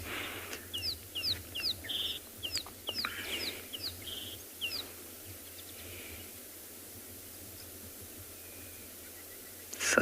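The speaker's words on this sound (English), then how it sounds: "You can hear the buzzing of a golden-breasted bunting." A morning bird chorus on a South African safari carries repeated short chirping calls through the first half, then fades to a low hum, including the buzzing call of a golden-breasted bunting at moderate distance, with no talking.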